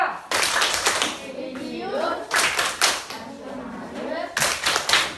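A class performs the rhythmic PPK clapping pattern at an elementary school, bursts of sharp group claps in a patterned beat alternating with children's chanting voices between them.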